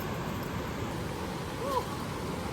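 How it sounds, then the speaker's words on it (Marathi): A waterfall in the Konkan region gives a faint, steady, broadband rushing roar, heard from a distance as a continuous wash of noise with no clear breaks. "धबधबा."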